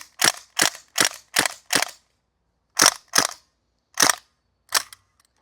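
North East STEN airsoft gun firing BBs, nine sharp loud snapping shots: a quick run of five evenly spaced, then a pause and four more spread out, with nothing else in between.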